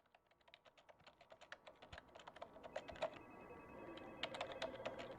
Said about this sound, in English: They have very clunky keyboards in 2035.